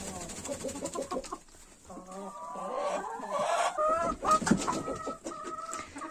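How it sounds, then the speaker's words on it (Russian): Several hens cluck and call close by in a henhouse, with layered overlapping clucks and short squawks over a low, steady barn background. "Эти курешки у меня."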